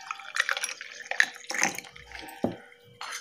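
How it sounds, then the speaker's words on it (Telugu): Cool water is poured into a summer sherbet drink, producing short splashes and trickles in quick, uneven bursts, close and fairly faint. "ఇలా కూల్ వాటర్ వేసుకొని"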